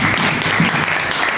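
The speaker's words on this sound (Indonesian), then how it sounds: "Tepuk tangan sekali lagi untuk kelompok." Applause from a classroom of students for a group presenting on the human respiratory system, a dense, steady burst of clapping filling the room throughout.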